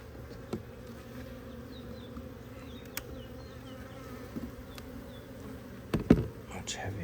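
Bees buzzing around an open hive during a February inspection, a soft steady insect drone with occasional sharp clicks and knocks of frames being handled nearby.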